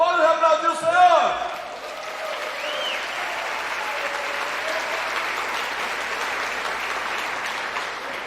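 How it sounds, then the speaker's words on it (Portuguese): Congregation applauding in church during a sermon, opening with a brief spoken phrase before steady, dense clapping takes over and holds evenly to the end. "Pode aplaudir o Senhor."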